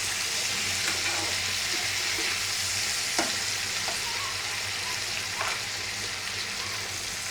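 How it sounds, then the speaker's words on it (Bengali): Meat sizzles and fries steadily in a pan for several seconds, with scraping and stirring sounds as the pieces are turned, all close and fairly loud without talk. "মাংস 1 পিঠ ভাজা হয়ে গেছে, এখন আমি উল্টাই দিচ্ছি"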